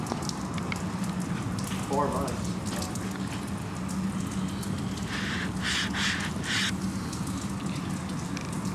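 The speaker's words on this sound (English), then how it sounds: "Is it like really raining?" Rain falls steadily as a soft, constant patter under people talking, with a few brief louder spatters.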